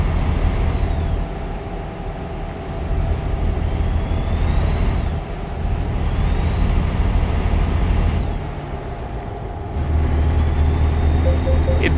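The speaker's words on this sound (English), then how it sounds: "Internal combustion engines are meant to be heard." Diesel truck engine in American Truck Simulator, hauling a new trailer on a long run: a steady, loud low rumble with dips and surges as the revs change, alone without talk.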